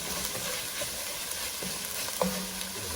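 Lamb pieces and spices frying in a pan for a spicy lamb shank curry, a steady sizzle with occasional scrapes and clinks as the mixture is stirred, close and continuous.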